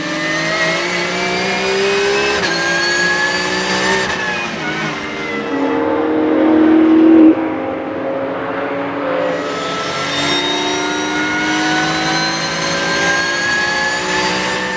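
Porsche and other race cars scream past one after another on the Dijon-Prenois circuit, loud high-revving engines rising and fading with a sharp Doppler pitch drop as each car sweeps by.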